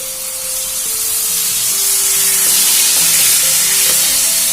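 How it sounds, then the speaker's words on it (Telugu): Onions frying in a pan for instant coriander chutney, a loud steady sizzle close by that swells slightly as it goes on, with faint stirring scrapes and no talking. "ఉల్లిపాయలు బాగా వేగాలి. చూసారా, వేగిపోతున్నాయి కదా."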